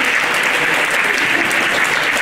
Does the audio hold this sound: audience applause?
yes